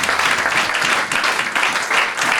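A church congregation applauding, dense and loud clapping from many hands that holds steady throughout.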